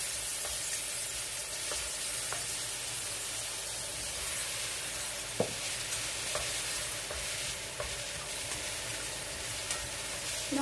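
Chicken sizzles and fries in a hot pan, a steady dense hiss with faint stirring clicks and a few soft knocks, close and continuous without talk.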